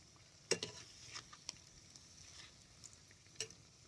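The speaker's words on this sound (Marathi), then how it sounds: "तेल चांगलं कडले त्यानं वडं कसं भाजायला येत बघा." Potato and moth bean vada frying in hot oil, a faint quiet sizzle with a few sharp crackles and pops scattered over a few seconds.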